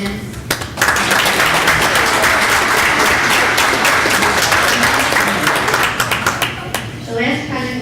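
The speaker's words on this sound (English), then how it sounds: "Let's give another round of applause for the students." Applause ripples through the room at a school district board of education meeting, with sharp individual hand claps standing out near the front and tapering off toward the end.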